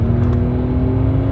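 A straight-piped RennTech Mercedes S65 AMG coupe accelerates hard. A loud, smooth engine drone holds at a steady pitch, heard close from inside the car.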